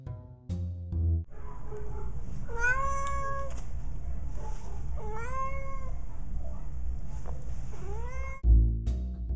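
A cat meows three times in long, drawn-out cries spaced a few seconds apart, over a low steady background hum.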